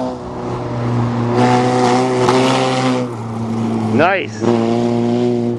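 A Toyota GTS car's engine accelerates hard, holding a steady high drone that climbs in pitch, dips briefly as it shifts, then pulls up again, with a voice speaking briefly over it.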